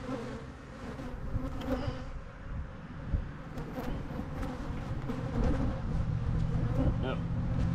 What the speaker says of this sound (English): There's plenty of bees, but we need nurse bees.